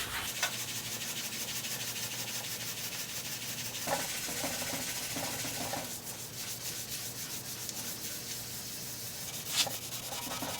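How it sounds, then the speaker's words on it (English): Steel wool scrubs rust off a cast iron table top in steady, continuous rubbing strokes, a dense hiss with a couple of brief louder scrapes, close and unaccompanied by speech. "you're going to take the steel wool and you're going to just give it some elbow grease"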